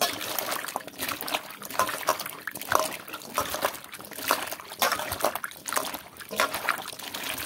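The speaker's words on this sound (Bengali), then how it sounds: "এবার এটা জল দিয়ে আমি ধুয়ে নেব ভালো করে" Cut pieces of gathi taro are washed by hand in a bowl of water, making continuous close sloshing, trickling and splashing with rhythmic swirls and no voices.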